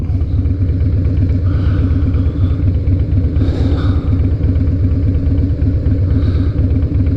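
A 2007 Harley-Davidson Night Train motorcycle engine idles steadily at close range, a deep, even rumble with a throbbing low pulse throughout, and no voices.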